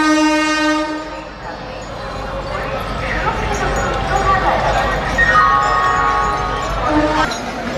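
A train arrives from Howrah at Seoraphuli station during the crowded Tarakeswar pilgrimage, its horn sounding in long steady blasts at the start and again near the end over continuous rail rumble and crowd noise, with people talking throughout.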